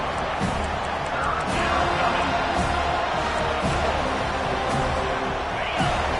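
A home crowd at a football game roars in a dense, sustained wash of cheering and noise as the defense faces third down, steady and loud throughout with a few sharp thumps, while a commentator talks over it.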